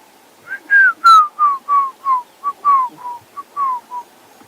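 A person whistles an imitation of an unknown bird call heard on a sunrise drive in the African bush. About a dozen short, clear, close whistled notes come in a lively, uneven rhythm, most of them sliding downward.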